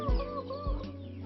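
Chickens on a village poultry farm run by women give two short, close clucks about half a second apart, over a steady tonal hum.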